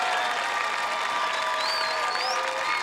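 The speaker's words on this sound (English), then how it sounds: "how about a round of applause for a great competitor?" Arena audience applause for a competitor on American Gladiators, a steady, distant-sounding wash of crowd clapping and cheering with faint tonal sounds drifting through it.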